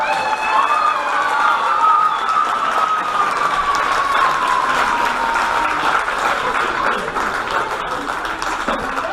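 Spectators applaud and cheer the winners of a celebrity lightsaber fencing contest, a loud, dense burst of clapping mixed with crowd noise and whistling, with voices in the crowd throughout.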